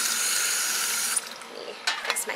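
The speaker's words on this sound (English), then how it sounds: "so now I'm gonna fill up this sprayer with water" Tap water pours steadily into a garden sprayer being filled for the garden, a bright rushing stream that stops about halfway, followed by a few brief splashes and handling clatters.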